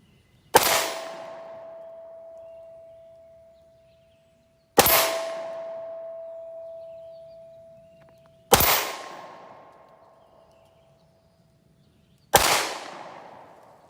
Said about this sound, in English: That's 5 rounds out of the M&P, cycled good